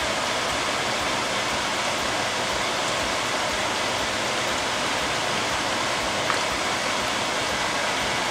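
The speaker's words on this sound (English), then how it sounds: "I'm just going to put it in to the boiling water, like so, and stir it in" Noodles stirred into a pot of boiling water with a wooden spatula, heard as a steady, close, broadband bubbling rush that holds evenly throughout with no talking.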